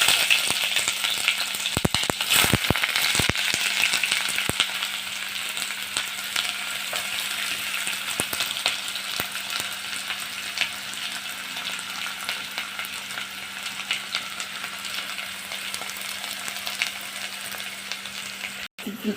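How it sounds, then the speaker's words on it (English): One large onion fries in about 200 ml of oil for a beef and vegetable dish, producing a dense continuous sizzle with bursts of stirring clatter near the start and a steady crackle throughout. "Then I'm going to add our onions to it."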